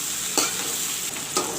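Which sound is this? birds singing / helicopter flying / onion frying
onion frying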